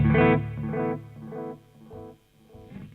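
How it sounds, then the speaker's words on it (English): Delay pedal trails continuing after the effect is bypassed with the foot switch, a guitar phrase repeating in softer, fading echoes that decay rhythmically over about three seconds. "you'll hear a little bit of the delay lasting over"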